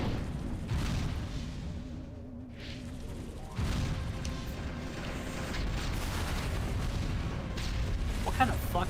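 Anti-air turret fire at a flying saucer in Destroy All Humans Classic comes as heavy booms and rumbling blasts over a continuous mechanical din, with a sharp thump midway and steady loud battle noise throughout.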